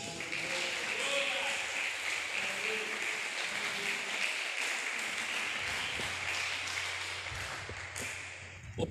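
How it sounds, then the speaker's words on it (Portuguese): Congregation applause at a men's church congress, a broad wash of many hands clapping that stays fairly even and moderately distant, with faint voices beneath and a few sharper claps near the end. "dê uma linda salva de palmas para Jesus."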